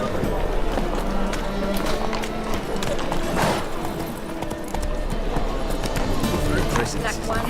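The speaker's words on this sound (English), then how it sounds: "Whoa there, Roach." Steady hoofbeats of a horse galloping in The Witcher 3 video game, a fast continuous clatter held close under game music and ambience, with a voice speaking over it.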